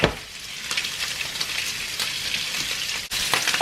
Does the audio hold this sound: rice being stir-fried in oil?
yes